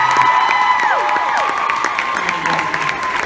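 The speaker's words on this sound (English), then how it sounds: "let's just give them one more big round of applause." Sustained audience applause at a Q&A event with James and Brett, dense steady clapping with cheers and whoops from a crowd, loud and continuous throughout.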